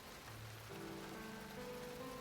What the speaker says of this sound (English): In the afternoon, the rain slowed to a heavy drizzle.